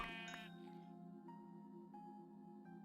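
A sheep bleats in a Minecraft-style video game, a short sharp call at the start followed by lingering game tones, fairly faint.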